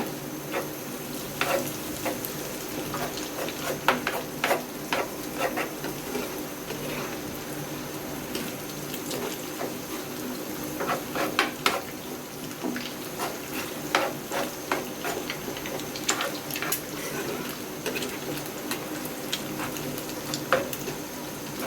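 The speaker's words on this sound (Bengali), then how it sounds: "ডিমগুলো একটু ভেজে নিতেছি।" Eggs frying in a pan while pasta is prepared, a steady soft sizzle broken by scattered crackles and clicks of stirring, close up and fairly quiet throughout.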